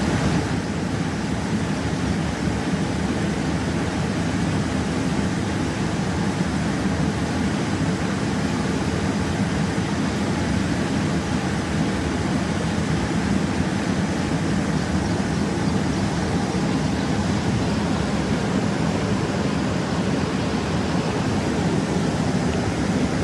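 The flooded Gunjavani river at Hatve, swollen by heavy rain, rushes over a submerged bridge in a continuous loud, broadband roar of water that holds steady throughout.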